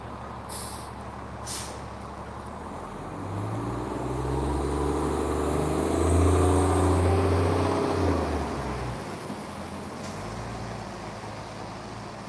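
Toronto TTC diesel bus #8024 on Route 66B rumbles past at the roadside, its engine swelling louder mid-pass and fading, with short air-brake hisses near the start and traffic noise throughout.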